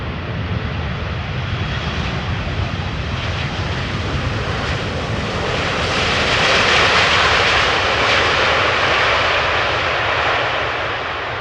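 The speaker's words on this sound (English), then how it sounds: "Interesting how it almost landed flat and hardly flared" An airliner landing at Amsterdam Schiphol Airport, a loud continuous engine roar that swells toward the middle and stays strong to the end, with no voices.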